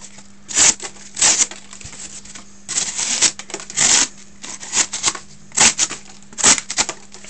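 A Kershaw Crown knife slicing through cardboard in a series of sharp, scratchy cutting strokes, some short and some drawn out, close and fairly loud with a faint steady hum underneath.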